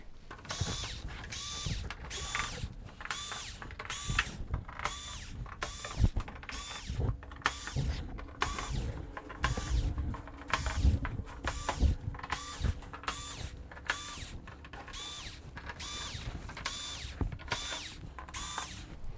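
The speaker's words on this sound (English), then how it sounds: "let's go ahead and get these screws off" A power screwdriver or drill backs out screws from the rear panel of a Samsung UN65JS9000F television, giving repeated short whirring bursts with ratchety clicks in a steady rhythm, close and fairly loud, with no voices.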